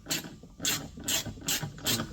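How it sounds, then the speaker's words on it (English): A ratchet working loose Loctite-secured T25 Torx screws on a Ford F-150 Supercab rear door latch, five evenly spaced rasping clicks in a steady rhythm, close and distinct with no voices. "So get a good ratchet on there"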